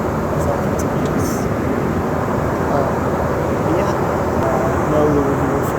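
Inside an Embraer E145XR regional jet cruising through clouds, the cabin is filled with a loud, steady, broadband engine and airflow roar, with a voice faintly present.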